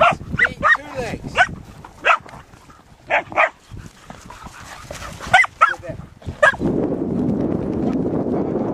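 A Boykin Spaniel gives a series of short barks and yips in the snow while a person talks to it, followed by a steady rushing noise at the end.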